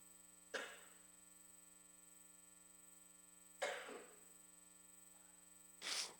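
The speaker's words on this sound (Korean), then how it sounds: "저는 기침이 나왔어요." Three separate coughs during an early-morning church service, spaced a few seconds apart, fairly distant and faint over a steady electrical hum, with quiet between them.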